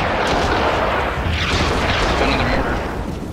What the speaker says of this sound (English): Got another mortar.